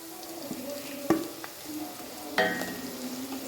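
Chili powder being stirred into hot oil for Kerala-style mango pickle, a steady sizzle with a few sharp scraping stirs of the spoon against the pan, close and moderately loud, no voices.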